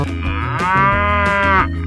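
A single drawn-out cow moo in a 3D animal video game, loud and close, rising then tapering off over a steady game music bed with no voices.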